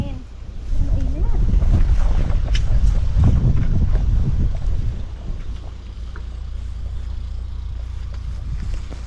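Wind blowing across a dragon fruit farm, gusting into the microphone as a low rumbling roar that swells early, then fades to a softer steady breeze, with a person speaking briefly over it.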